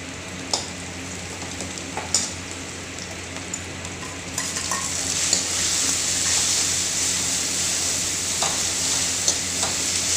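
Onion and garlic paste for pakora kadhi frying in a pan: a few spoon taps and stirring clinks, then a louder, steady sizzle that swells and holds close up.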